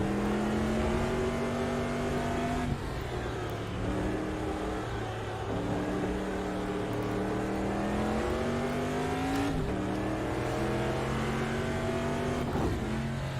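Racing super-truck engine in the Automobilista VR sim racing game, a loud continuous drone that rises and drops in pitch through repeated gear changes, with no talking.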